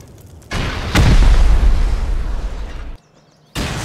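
Rocket blasts during a raid in the video game Rust: a loud boom hits, swells into a long rumbling roar for about two seconds, cuts out, then another burst starts near the end.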